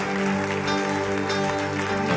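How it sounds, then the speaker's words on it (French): Congregation applauding during a joyful Christian worship gathering, the clapping spread out and blended with sustained music tones underneath, steady and fairly loud for the whole stretch. "Est-ce qu'on peut applaudir le roi des rois?"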